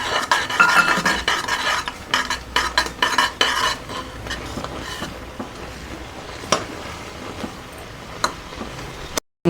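A spoon stirs flour into milk for pala talikalu, bursts of clattering scrapes against a pot that come in quick rhythmic strokes, then thin out into softer occasional knocks.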